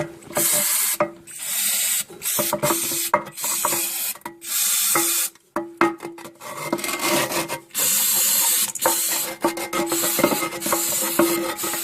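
An aerosol can of Flex Seal silicone spray is sprayed onto a leaking bolt in repeated hissing bursts of a second or two, loud and close, separated by short pauses and handling noises.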